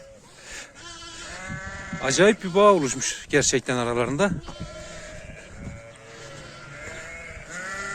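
A lamb bleats several times close by, wavering cries over a person speaking.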